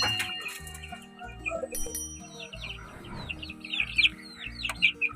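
Chickens and young chicks cluck and cheep at close range in a backyard flock given vitamin water, with small peeps scattered over steady low hen clucking, all with no one talking.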